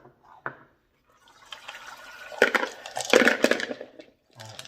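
Thin grit slurry from a Lortone 3 lb rock tumbler barrel is poured out in uneven splashy gushes and drips, building over a few seconds with a couple of louder bursts, with brief quiet gaps between.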